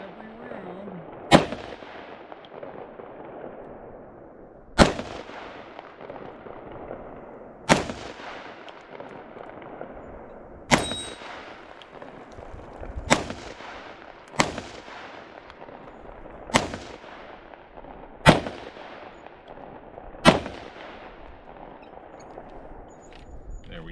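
An FK BRNO pistol fired through a full magazine outdoors, eight sharp, loud reports spaced a few seconds apart, each ringing out in a long echoing decay, with faint talk between shots.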